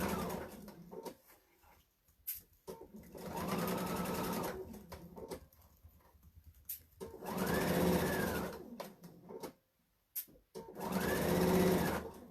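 A sewing machine stitches a quarter-inch seam on a pillowcase in three separate runs of steady, whirring motor hum with rapid needle clatter, separated by quiet pauses with faint handling clicks.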